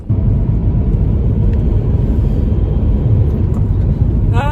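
Inside a moving car, a low steady rumble of engine and road noise fills the cabin, continuous and even, with no talking.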